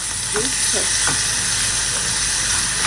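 Prawns sizzling in a pan with green chilli and a ginger, garlic and cumin paste, a steady close hiss with a few brief clinks of stirring.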